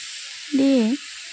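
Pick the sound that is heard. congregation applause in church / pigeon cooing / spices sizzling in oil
spices sizzling in oil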